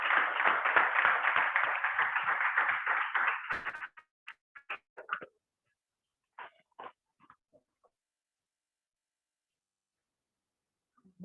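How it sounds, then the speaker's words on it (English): A small club meeting audience claps for a few seconds, a fairly close round of hand claps that thins into scattered single claps and then silence. "Welcome with a round of applause,"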